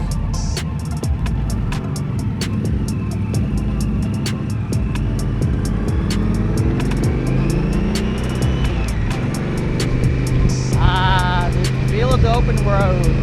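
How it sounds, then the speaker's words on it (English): Wind roaring past a rider on an Indian Scout motorcycle fitted with a small batwing fairing, a constant loud rush blended with engine drone out on the open road while someone talks over it. "You'll just have to live with the wind noise."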